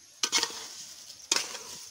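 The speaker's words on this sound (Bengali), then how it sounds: "দেখো চাল আমার ভাজা হয়ে গেছে, কিরকম করে ভেজে নিচ্ছি।" Rice frying in a pan for egg biryani, a soft background sizzle broken by two sharp bursts of stirring, each a quick scrape followed by a brief rattling swirl, close and alone.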